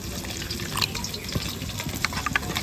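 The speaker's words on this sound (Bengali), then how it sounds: "অল্প করে একটু জল দিয়ে দেবো" Water splashes and trickles into a bowl of spice mix with turmeric close by, a brief liquid pour with faint clinks.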